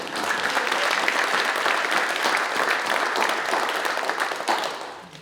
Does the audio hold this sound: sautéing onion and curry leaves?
no